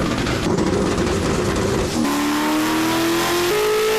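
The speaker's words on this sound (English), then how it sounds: "A turbo LS engine has a particular sound." A turbocharged GM LS engine mounted in the rear of a Porsche runs loud and close, a harsh droning note that shifts abruptly midway into a steady, slowly rising tone.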